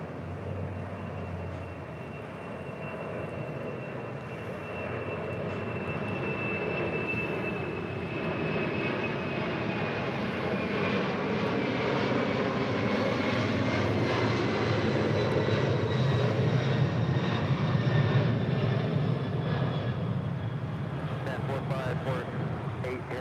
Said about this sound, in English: That was Atlas Air 4548 going around.